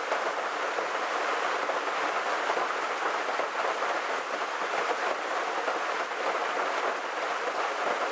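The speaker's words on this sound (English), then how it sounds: "And the rain." Steady rain falling outdoors, a dense, even hiss of drops with no breaks, moderately loud and continuous with no voices.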